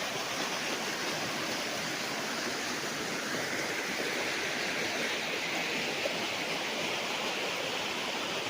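A river flowing along the boundary of a farm lot in Majayjay, Laguna, a steady broadband rush of water that stays even and continuous throughout, moderately faint.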